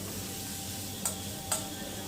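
Taro stolons (kochur loti) frying in a pan with tengra fish: a steady close sizzle with two brief clinks of a spatula stirring.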